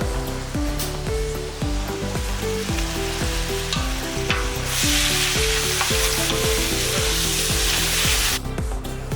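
Italian wedding soup ingredients sizzling in a pot, a constant crackling fry with a rhythmic scraping stir repeating roughly every half second, close and steady, with no talk.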